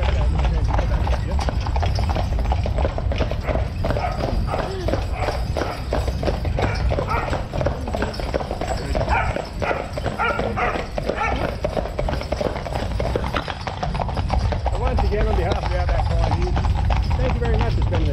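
Horses' hooves clip-clopping steadily as they pull a Cobb & Co stage coach in the Outback at Longreach, under continuous loud talk.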